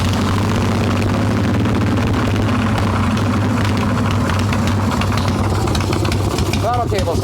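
A Harley-Davidson Evo Softail motorcycle engine, run without choke, idles with a loud, close, steady low rumble that fills the whole stretch. A voice briefly talks near the end.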